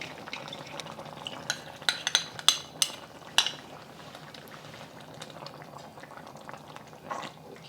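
A cornstarch-thickened sauce heats in a pan with a steady low bubbling and simmer, broken by several sharp clinks of a utensil against the pan in the first few seconds, no voices.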